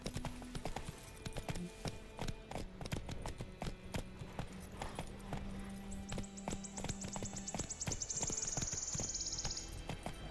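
Hooves of a spurred horse in The Witcher 2 video game clip-clop in a brisk, steady gallop close by, with a brief whinny-like tone and faint game ambience beneath.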